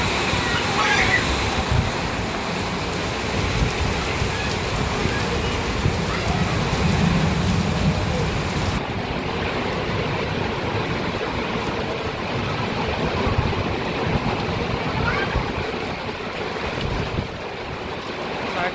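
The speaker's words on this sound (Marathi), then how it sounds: "बाहेरच्या बाजूला दाखवतो लय जोराचा पाऊस पडतोय" Heavy rain pouring outside during a windy storm, a loud continuous roar of downpour with gusting wind, sustained and close throughout.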